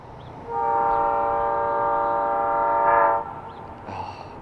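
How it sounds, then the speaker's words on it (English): A diesel locomotive arriving on a historic narrow-gauge line sounds a long, steady chord horn for nearly three seconds over a low engine rumble, followed by a brief softer horn note. "I hear something coming and I'm disappointed. It's a diesel."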